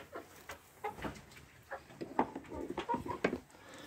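Chickens cluck in a coop at close range with a scattered run of short, soft clucks and mutters spread through the moment, no one speaking.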